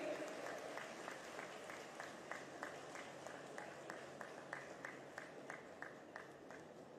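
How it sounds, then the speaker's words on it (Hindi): Applause greets the chief minister at a community hall inauguration in Dehradun, a faint, even wash of clapping from a gathered crowd with no talk over it. "जोरदार तालियां बजती रहनी चाहिए।"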